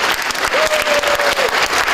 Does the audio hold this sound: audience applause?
yes